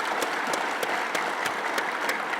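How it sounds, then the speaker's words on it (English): Audience applause at a gathering in Bangladesh: dense, steady clapping from a large crowd, loud and continuous throughout with no voices over it. "let's give you a big applause for the institution"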